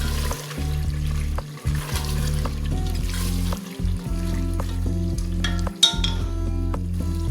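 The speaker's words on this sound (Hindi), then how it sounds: "अब इसमें हरी मिर्चें जो कि मैंने 2-3 काट के रखी हुई थी, ये मैं इसमें शामिल कर रही हूँ और मज़ीद इसे थोड़ा सा भून लूँगी।" Cut green chillies sizzle as they fry in an aloo gosht masala, with steady loud hissing throughout and repeated scraping stirs and clinks of a spoon against the pot. No one speaks.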